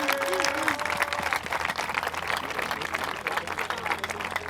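A church congregation applauding and cheering to acclaim Jesus, dense sustained clapping from a large crowd, loud and close throughout, with a voice briefly heard at the start.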